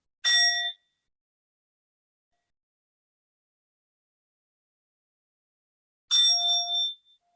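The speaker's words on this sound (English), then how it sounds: "I'll ring the bell." A meditation bell is struck once at the start, then again near the end, each ring a short bright tone that is clipped off quickly as it passes through a Zoom call, with silence in between.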